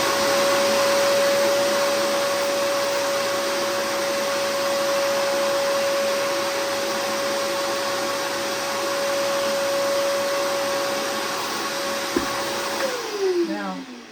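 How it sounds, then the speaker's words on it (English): A vacuum cleaner pulls sanding dust off a guitar body in a luthier's shop, a loud, steady motor whine held close for about twelve seconds before it winds down, with a brief clunk near the end. "then I'll hit it with a vacuum"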